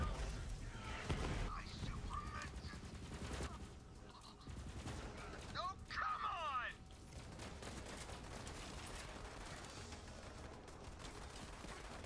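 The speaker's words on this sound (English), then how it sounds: "This gun is awesome. It shoots so fucking quick." Rapid gunfire from a fast-shooting gun in Borderlands 3 bursts in short clustered volleys over a busy game soundscape, with low voices murmuring underneath.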